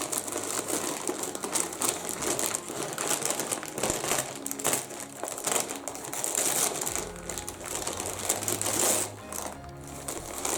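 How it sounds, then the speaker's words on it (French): Wrapping paper crinkles and rustles as a Christmas parcel is unwrapped, a continuous close crackling with rapid crunchy bursts and brief pauses. "Je suis désolée pour les bruits de papier"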